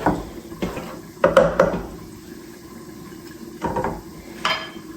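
Flour dough is stirred in a pot, a few scraping knocks and clatters of the spoon against the pot's side, close by, separated by quiet pauses.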